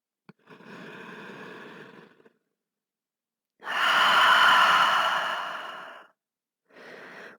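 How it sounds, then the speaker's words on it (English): Deep yoga breathing: a long inhale through the nose followed by a louder, fuller exhale through the mouth, then another breath beginning, close and clear. "Maybe take a big inhale through your nose and exhale out of your mouth."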